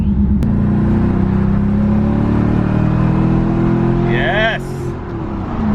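A Chevrolet Corvette ZR1 drives off on a short road run, its steady engine rumble loud and close throughout, with a brief shout of excitement over it near the end.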